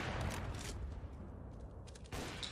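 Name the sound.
gunshot in video game CS:GO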